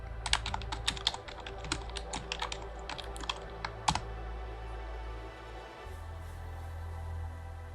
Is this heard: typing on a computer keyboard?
yes